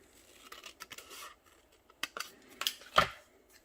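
Scissors snip through paper card to cut out an opening, a series of quiet, close, crisp cuts and rustles coming in short irregular bursts, with no voice.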